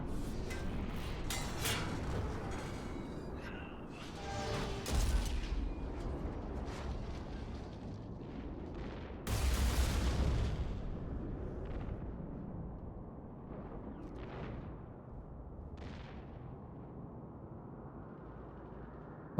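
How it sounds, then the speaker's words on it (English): Mass Effect 3 battle explosions and gunfire boom through a rumbling war soundscape, with a sharp blast near the middle, scattered bursts and crackles fading into quieter rumbles, no voices heard. "Well, at least the explosion was only small."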